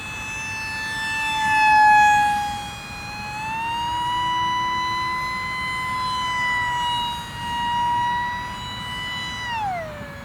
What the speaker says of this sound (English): With the pusher configuration, this one is a good bit louder than most Ultramicros.